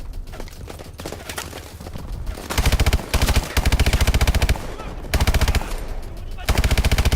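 Automatic weapon fire in Call of Duty: Advanced Warfare, a futuristic shooter, comes in loud, rapid bursts broken by short pauses, with sustained streams of shots and a faint voice underneath.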